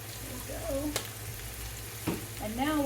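Onions sauté in a skillet with a steady, moderate sizzle, interrupted by two sharp clinks of utensil against pan, while faint chirping sounds drift in the background.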